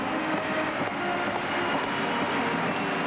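Packed Olympic hockey arena crowd roaring and chanting after victory, a thick unbroken wall of cheering voices holding steady and loud throughout.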